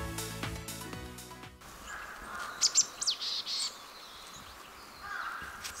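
A Marsh tit calls in a park in Hokkaido, between Otaru and Sapporo, giving a few faint, quick high chirps over a steady outdoor hiss after a short tonal passage.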